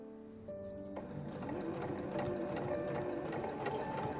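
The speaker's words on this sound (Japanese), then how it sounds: "で、留めたところを縫っていきます。" A domestic sewing machine stitches a white gauze stole in a steady, rapid mechanical run. It starts after a brief pause and keeps a close, even rattle throughout with no talking.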